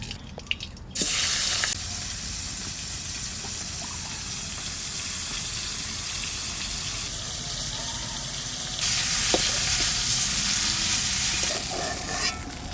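Khoira fish fry in oil in a wok, giving a loud, steady sizzle and hiss that swells noticeably partway through.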